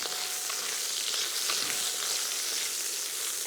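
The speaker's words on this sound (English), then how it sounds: "Stir these around a little bit to start to soften them." Vegetables for sweet and sour pork fry in a hot pan with a dense, even sizzle throughout, close and steady, and only faint stirring ticks can be heard under it.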